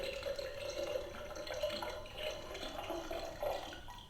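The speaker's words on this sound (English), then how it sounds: "is for water, if you can hear that, and the other one is for ice cubes." A toy drink dispenser's water button plays a recorded running-water sound effect, a steady tap-like flow with soft bubbling that holds for several seconds at moderate level, with no talking over it.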